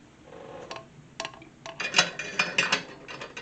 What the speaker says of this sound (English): It is a 2-piece razor, so you unscrew the bottom here, the top pops off